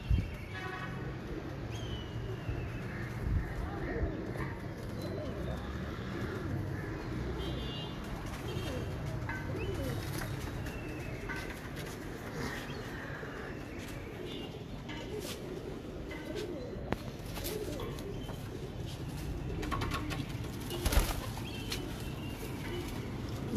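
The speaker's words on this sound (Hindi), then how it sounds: "ये उसके पास जाएंगे कबूतर सारे माशाल्लाह से।" Pigeons of the Imam Deen breed coo steadily through the whole stretch, mixed with broad rustling and outdoor background noise at a moderate, even level.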